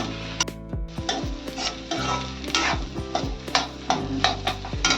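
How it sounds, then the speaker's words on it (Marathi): Sprouted mung bean curry ingredients sautéed in a pan, a quick series of metal spoon taps and scrapes against the pan over a steady low sizzle, close and without voices. "हे आता परतून घेते सगळं."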